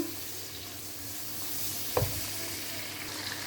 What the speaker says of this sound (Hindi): इसको मैंने तकरीबन 2 से 3 मिनट अच्छे से भून लिया है और जो टमाटर हैं वो भी अच्छे से गल चुके हैं